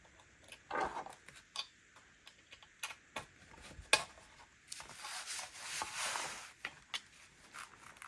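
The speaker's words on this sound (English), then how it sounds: "with some rusty wire to match the hanger. And I'm just going to twist it around so it'll stay." Rusty craft wire twisted by hand around an old hanger, producing quiet, close, irregular scratching and ticking clicks with short rubbing bursts and pauses, no talk.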